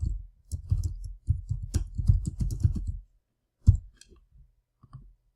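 Quick bursts of computer keyboard typing as a map title is entered for an ESRI web map, close and crisp, then a pause and a few scattered key clicks.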